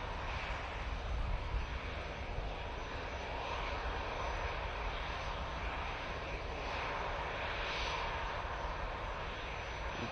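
An Etihad airliner at Manchester Airport gives a steady, loud jet engine roar that holds evenly throughout with a broad rushing hiss, alone with no voices.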